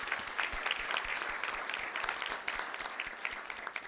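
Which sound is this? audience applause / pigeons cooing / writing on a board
audience applause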